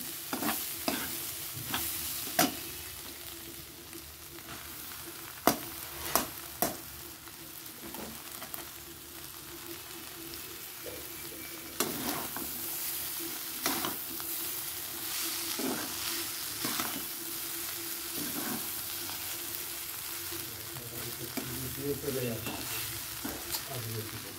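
Chow mein being stir-fried in a pan, a soft continuous sizzle broken by sharp clanks and scrapes of the spatula tossing the noodles, fairly quiet and close.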